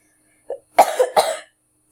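Two harsh coughs, preceded by a short throat sound, burst out close and loud before falling silent, coming from someone who is unwell.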